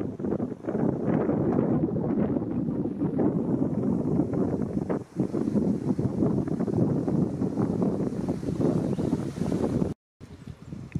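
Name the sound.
wind blowing on the Murray river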